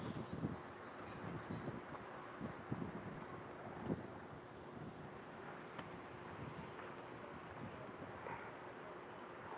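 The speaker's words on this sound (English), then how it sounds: "It's real windy out here." Low, steady wind rumbling and buffeting against the microphone outdoors, with occasional soft knocks; faint and continuous.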